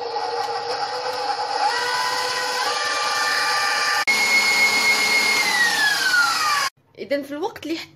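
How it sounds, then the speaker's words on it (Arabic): An electric mixer whips egg whites in a bowl, a loud continuous whirring drone that shifts pitch as the speed changes, then cuts off near the end, leaving brief talk. "غادي ناخذوا البياض ديال البيض وغادي نطربوهم مزيان."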